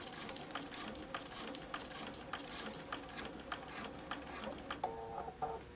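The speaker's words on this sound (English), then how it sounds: "this is going to be a slow stitch" A sewing machine runs slowly through a quilt-as-you-go tote bag, its needle thumping in a steady, unhurried rhythm of soft repeated clicks, close by and fairly quiet, with a brief higher mechanical whir near the end.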